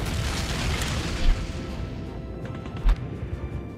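Rockets burst in the Guns Up strategy game, two deep booming explosions about a second and a half apart over a rumbling battlefield background, with a fading crackle after each blast.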